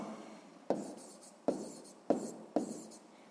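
Pen writing an answer on paper during a sixth-grade maths exercise, four quick sharp scratching strokes over a soft rubbing background, close and quiet, with no talk.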